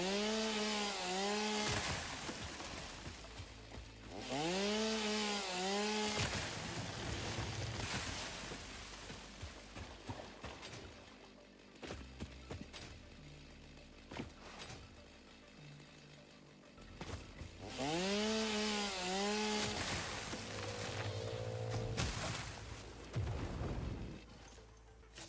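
A chainsaw cutting wood in the video game Satisfactory, loud revving bursts that rise and fall in three main runs with quieter idling and scraping between them, no talk heard.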